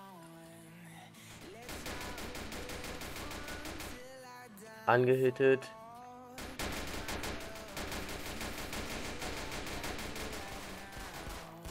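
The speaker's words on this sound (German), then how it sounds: "Ja, sehr viele Schüsse, sehr viele Schüsse." Rapid bursts of gunfire during a bank robbery in the police game Notruf Hamburg crackle through much of the clip, with a voice talking over it and a brief louder tonal sound in the middle.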